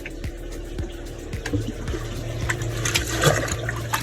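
Stock water pours and splashes into a tub being filled for a green water culture, a close steady gush with sloshing and a few knocks, no speech.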